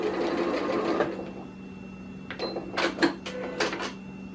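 A sewing machine stitches a piece of scrap cloth in a steady whirring run that stops partway, followed by several short, sharp clicks and rattles as the machine is adjusted.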